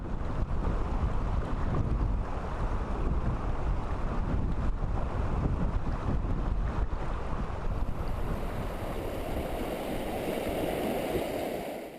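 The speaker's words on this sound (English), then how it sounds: "if the wind is blowing against you like it was for me" Strong wind blows along a river during fly fishing, roaring and buffeting the microphone over rushing water in a continuous wash that eases slightly near the end, with no talking.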